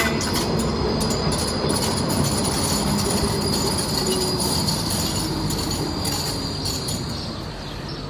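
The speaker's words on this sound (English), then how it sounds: "that's the train, sorry, that's the Swiss train." A Swiss train rolls past in the countryside with its wheels squealing, a loud, continuous rumble of wheels on rail topped by high metallic screeching that fades slightly toward the end, with no talk.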